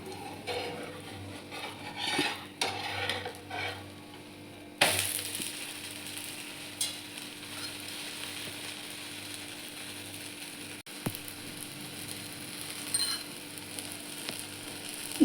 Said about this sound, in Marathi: आता पलटवून घेऊ आपण.